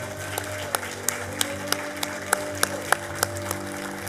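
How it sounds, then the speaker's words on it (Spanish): In a church service, a congregation claps in a steady, evenly spaced rhythm, sharp beats about three per second over sustained musical tones in the background. "Un aplauso al Señor"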